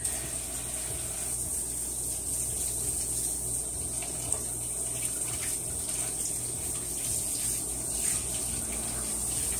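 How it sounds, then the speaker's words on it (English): Hands being washed under a running tap, a steady close splashing rush of water that continues unbroken throughout with only slight shifts as the hands move. "I'm going to wash my hands"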